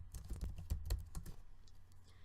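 Rapid keystrokes on a computer keyboard while entering data in an Excel spreadsheet, a dense run of close clicks that thins out toward the end, with no talking.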